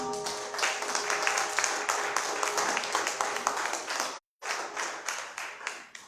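A church congregation claps together in praise, a dense, steady patter of many hands close by with musical accompaniment underneath, broken by a brief silent gap before the clapping resumes.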